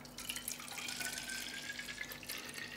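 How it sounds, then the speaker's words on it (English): Turmeric and ginger soda mixture is poured into an empty PET bottle, a steady close trickle whose pitch slowly rises as the bottle fills, with no talking. "What we're going to do is we're going to put that into the bottle."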